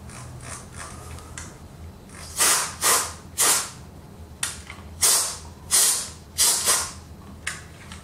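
Short bursts from a pressure spray used to clean a Sansui G-9000 stereo receiver, about eight in a row, each a sharp puff of air fading quickly, over a low steady background hum.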